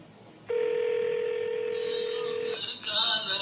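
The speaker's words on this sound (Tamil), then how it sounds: "ஸோ இப்போ கால் வரும் பாருங்கள்." Ringback tone from a call app used without a SIM card: a steady single tone holds for about two seconds, fairly loud, then brighter higher tones follow as the call connects.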